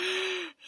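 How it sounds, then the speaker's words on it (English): A single exaggerated yawn from a singer in a children's action song, a short voiced sighing exhale that slides down in pitch and fades, heard alone. "give a yawn"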